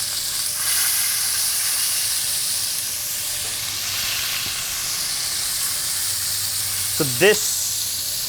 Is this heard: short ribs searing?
yes